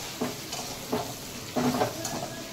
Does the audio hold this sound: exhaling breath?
no